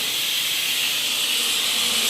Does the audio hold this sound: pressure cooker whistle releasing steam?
yes